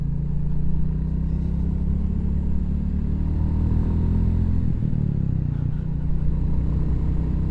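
A Royal Enfield Classic 350 motorcycle rumbles steadily while being ridden, its deep, thumping low-pitched exhaust close and loud throughout, with a slight dip in the engine note partway through.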